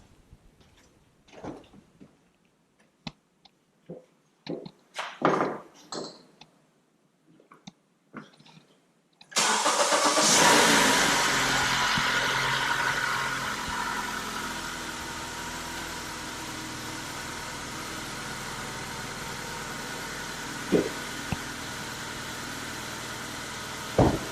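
Engine of a 2013–2022 Honda Accord, after spark plug replacement, cranks and catches into a steady idle midway; before that, scattered knocks and clatter, then a loud start settling into a constant low running hum with occasional faint clicks.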